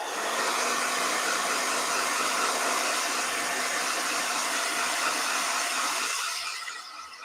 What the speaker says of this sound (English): Blow dryer.